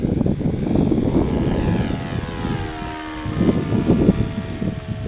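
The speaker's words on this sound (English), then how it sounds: "That's me back on the throttle, I think." A 1/4 scale RC Corby Starlet model plane engine drones steadily and then throttles up, its buzzing propeller note rising and swelling, moderately loud and heard from some distance outdoors.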